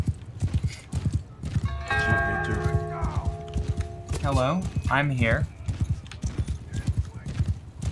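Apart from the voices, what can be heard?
horses galloping in video game Bannerlord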